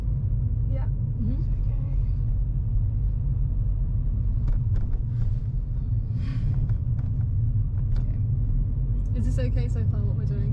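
A car driving along a road during a beginner driving lesson makes a steady low engine and road rumble, with faint occasional clicks and murmured voices inside the cabin.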